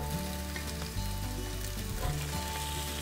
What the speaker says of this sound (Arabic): انا عايزاها تتحمر بسرعة او تتشوح على النار